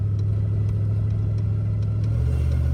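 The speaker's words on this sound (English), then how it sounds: "you can hear the whine from the transfer case" Ford F-250 pickup driving with a steady low engine drone and a faint whine from the transfer case running through it, continuous and close throughout, no talk.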